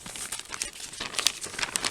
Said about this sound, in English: It's sort of just tearing, it's not sort of an easy tear plastic